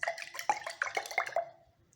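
Salt shaken with water in a small container for a chemistry test, a quick run of wet sloshing splashes and drips over about a second and a half that dies away.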